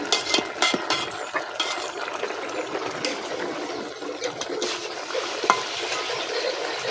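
Fish, potato and eggplant curry bubbles and sizzles in a pan, a steady soft simmer broken by the scrape and clink of stirring at a moderate, close distance.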